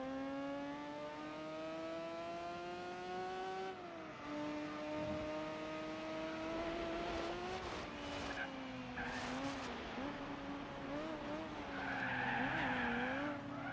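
Tires skid and squeal as a car slides into oversteer in the Gran Turismo 4 racing game, over a steady rising and falling engine drone, with a louder, harsher screech building near the end.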